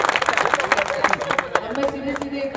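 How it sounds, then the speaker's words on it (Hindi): Audience clapping at a mushaira poetry gathering, a dense burst of applause that thins out over a couple of seconds, with voices talking through it. "तालियां बजाइए एक बार।"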